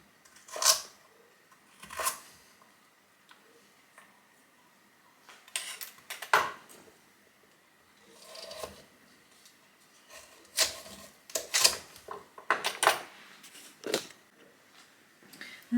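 A knife chopping vegetables on a board for homemade rabbit pies, irregular sharp taps and clusters of quick cuts with pauses between, close and fairly quiet.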